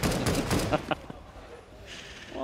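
Auto sniper rifle fire in a Counter-Strike match on the de_train map, a rapid burst of several cracking shots in quick succession that fades out, followed by a brief mechanical reload-like clatter.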